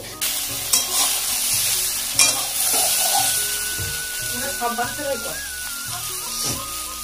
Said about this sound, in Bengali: তো আমি এখানে ভেন্ডি আলু ভাজা করছি